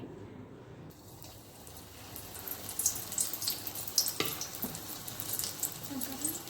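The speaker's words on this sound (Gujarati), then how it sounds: "તેલ આવી ગયું છે તો ભજીયા કરી લઈએ" Spinach pakoras spooned into hot oil begin to fry. A steady, soft hiss of sizzling swells after a quiet start, with fine crackles and pops close by.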